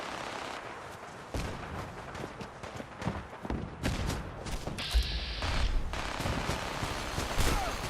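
Gunfire in the video game Fallout 4 crackles in rapid irregular bursts and volleys, with a heavier boom and sustained shooting later, loud and close with no talk.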